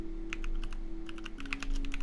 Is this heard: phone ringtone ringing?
no